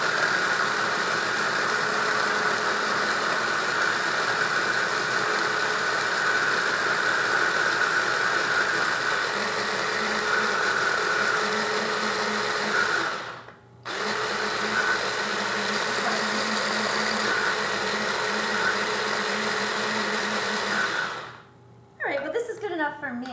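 A blender grinds rice into powder for homemade baby rice cereal, a steady whirring drone that cuts out twice for a moment and then starts again.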